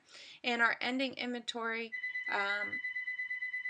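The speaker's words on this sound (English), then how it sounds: "Excuse my phone there." A phone rings steadily with a repeating electronic tone through the second half, under and after a voice explaining accounting figures.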